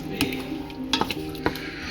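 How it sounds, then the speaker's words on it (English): A spoon scrapes and clinks through thick cheesy vegan sauce coated over rigatoni pasta in a pot, with three soft strokes heard against a steady background hum. "we're going to keep stirring"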